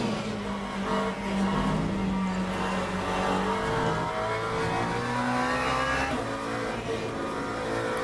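Race car engine in the Le Mans Ultimate sim racing game, a steady loud drone holding high revs with rising and falling pitch through gear changes, continuous throughout with faint tyre noise.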